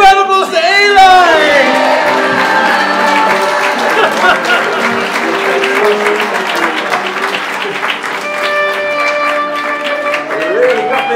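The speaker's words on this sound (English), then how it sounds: "Please give a big round of applause to Eli!" A crowd at a live performance-art show applauds for the performer Eli, with sustained clapping mixed with shouts and whoops. Voices and tonal sounds ride over the applause throughout.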